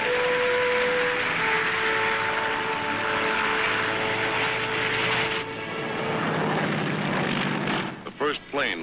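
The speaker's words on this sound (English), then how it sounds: "The second one lands 1 minute later." A propeller airplane lands on the Tarawa airstrip in 1944, with a loud, steady engine drone that holds and then thins out toward the end.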